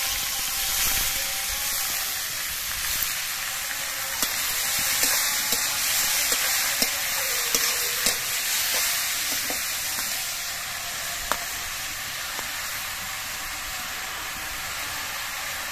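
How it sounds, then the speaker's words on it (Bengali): Bottle gourd with black cumin and slit green chillies stir-fries in hot oil, giving a steady broad sizzling hiss punctuated by occasional small scraping clicks of stirring, constant and close without speech. "লাউটা দিয়ে নেড়ে তেলের সঙ্গে বেশ ভালো করে মিশিয়ে নিতে হবে।"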